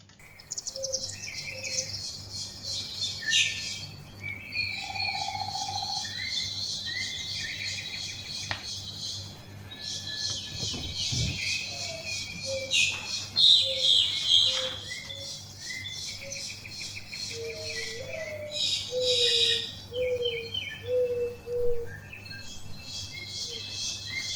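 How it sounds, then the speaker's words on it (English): A weaver bird chirps and twitters in quick high bursts while building its nest, with insect-like trills and a low steady hum running underneath throughout. "to set the scene, I'd like you to focus on this weaver bird."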